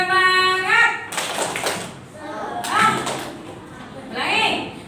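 Participants in a teacher-training session clap in short rhythmic bursts for a 'tepuk semangat' spirit clap, three loud clusters of claps separated by voices chanting and talking.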